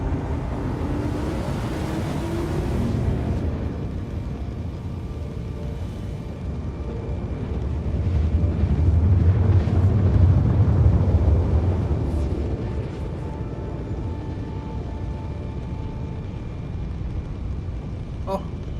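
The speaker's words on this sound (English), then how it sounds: "Oh, I love the fact you can hear the engine." A steady low spaceship engine rumble from Star Citizen drones throughout, swelling louder in the middle before settling back, with faint crackles scattered over it.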